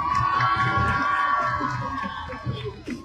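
An outdoor crowd cheers, whoops and claps at a Move Forward Party political caravan rally in Chai Nat, Thailand, a steady loud roar with children's shouts and a tonal whistle or horn running through it.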